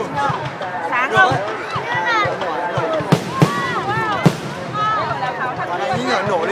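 Tet holiday fireworks burst in several sharp cracks and pops amid excited chatter and voices talking close by throughout.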